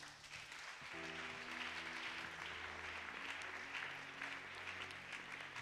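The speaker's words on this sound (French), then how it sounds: "Acclame d'abord pour la parole de Dieu." A church congregation applauds, with steady clapping from many hands filling the room at a low, distant level throughout.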